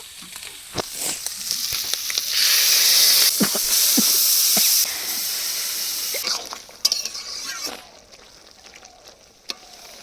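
Shrimp, onion, garlic, spinach and potato sizzle in a frying pan, a steady loud hiss that swells midway then eases, with occasional sharp pops and crackles throughout.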